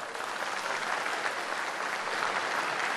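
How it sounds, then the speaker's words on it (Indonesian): Sustained audience applause at a KADIN dialogue event with Ganjar Pranowo, a dense, steady wash of many hands clapping throughout, fairly loud with no talk over it. "Tepuk tangan sekali lagi."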